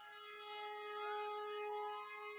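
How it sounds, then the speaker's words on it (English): Ambulance siren wailing about a block away on a Chicago street, a steady, sustained tone that swells slightly and holds throughout, moderately distant with no talk over it. "There's an ambulance about a block away from me"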